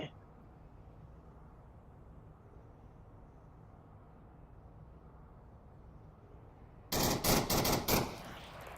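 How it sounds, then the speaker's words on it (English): A short burst of rapid automatic rifle fire at a rock in the Onward VR shooter, a loud clattering string of shots near the end after a long stretch of low ambient hum. "El Vegas shooting at a rock"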